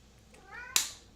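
A house cat gives a single short meow, rising then sharply bright at its peak, close and clear in a quiet indoor room.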